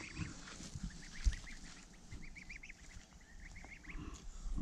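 Month-old goslings honk and gabble repeatedly at a moderate distance over soft outdoor background noise, in irregular short bursts.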